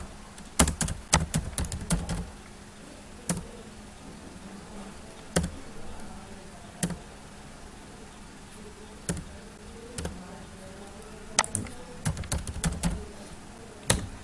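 Computer keyboard keys tapped while typing in MS Word, with quiet, crisp clicks in short irregular bursts separated by pauses.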